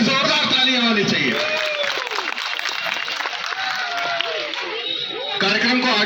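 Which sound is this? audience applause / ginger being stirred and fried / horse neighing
audience applause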